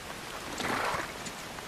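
Pouring rain in the video game Kingdom Come: Deliverance 2 makes a brief, even hiss of dense falling water, steady and unbroken with no voices over it.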